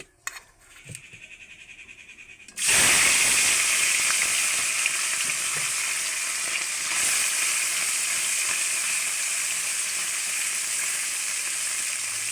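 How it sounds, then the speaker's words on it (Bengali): Fish is dropped into hot oil in a kadai, and a loud sizzle suddenly bursts up, then holds as a steady, bubbling hiss close by. "এবার কড়ার মধ্যে মাছ দিয়ে দিচ্ছি"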